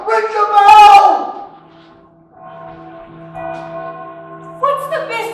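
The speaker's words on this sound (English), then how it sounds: "Ring the bell!" A bell rings out in a Macbeth stage performance, its sustained tones swelling and fading across the scene while actors' voices declaim loudly over it.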